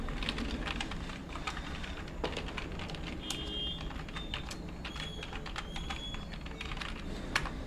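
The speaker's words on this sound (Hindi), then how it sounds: "तो कीबोर्ड से स्टार्ट करने के लिए तो मैं यहाँ पे पहले टाइप कर देता हूँ।" Rapid clatter of keystrokes on a computer keyboard during a live computer class on Notepad, with steady, close, uneven tapping and occasional sharper clicks throughout.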